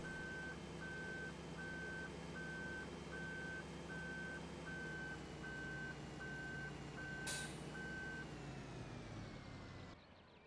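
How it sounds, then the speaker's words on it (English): A truck in Farming Simulator 2013 reverses with an evenly spaced series of loud beeps over a steady engine drone, the beeping stopping and the engine cutting near the end. "we'll pull the truck ahead again and load up some more bales"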